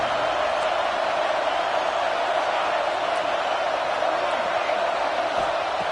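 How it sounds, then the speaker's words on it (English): Stadium crowd in a College Football 26 video game roars as a steady, dense wash of noise before a red zone defensive stand, loud and continuous without distinct claps or calls. "And here comes the noise. This crowd is trying to inspire this defense to make a big red zone stop."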